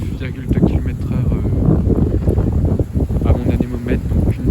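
Strong bise gusts near 75 km/h roar and buffet the microphone in a steady, heavy rush, with someone talking throughout.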